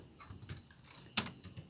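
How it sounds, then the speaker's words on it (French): Code being typed on a computer keyboard, a short run of soft keystrokes with one sharper, louder key press near the end, close and without talk. "si on tape encore le même code"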